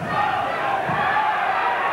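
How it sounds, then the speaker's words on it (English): Continuous roar of a large arena crowd cheering at a 1990 kickboxing championship bout, dense and sustained with no break. "And you hear the cheer of Marek go up"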